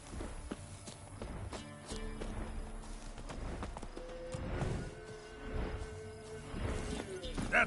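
Roach the horse runs in The Witcher 3, with repeated hoofbeats thudding in an uneven, quick rhythm over game ambience, fairly close and moderately loud throughout.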